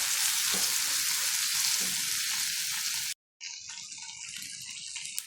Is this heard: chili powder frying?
yes